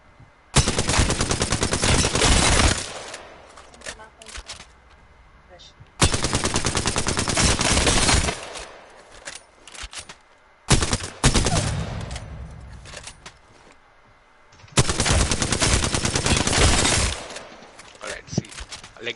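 Rapid automatic gunfire from a shooting video game, fired in four long sustained bursts separated by short gaps, loud and close, with no talking during the shots.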